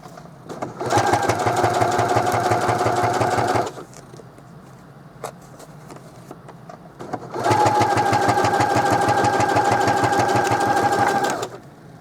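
A sewing machine runs an edge stitch along the fold of a placemat pouch in two steady bursts of about three and four seconds, separated by a quieter pause with faint handling.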